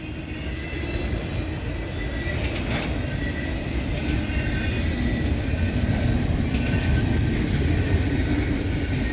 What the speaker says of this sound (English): Hey, train's a train.